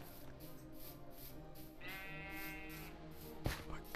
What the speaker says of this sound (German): Und Schafe.